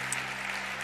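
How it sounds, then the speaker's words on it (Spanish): Audience applause at a magician's illusion show, a short steady wash of clapping with no talk over it. "Un aplauso para ellos."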